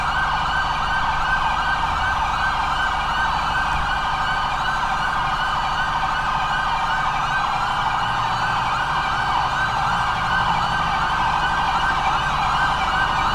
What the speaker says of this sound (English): Shut off these sirens.